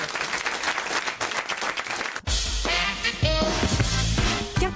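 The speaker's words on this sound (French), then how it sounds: "qu'on peut encore applaudir Titoff pour sa bonne réponse" A French radio studio audience applauds during a comedy quiz show, a thick burst of clapping that cuts off abruptly and gives way to upbeat broadcast music with a jingle.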